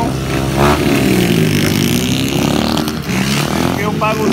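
A motorcycle fitted with a Fortuna exhaust revs loudly and continuously nearby, its engine note rising and falling under steady talk.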